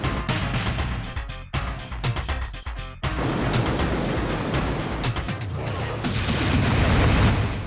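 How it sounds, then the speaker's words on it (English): Helix Cannon spread shots in the Descent video game, rapid bursts of crackling, punchy blasts in a weapons-testing room, loud and dense, with short gaps early on before turning into an unbroken barrage. "I think it's time to pull out the Helix Cannon."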